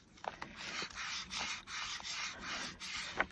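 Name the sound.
rubbing the back of an inked stamp on a mini tag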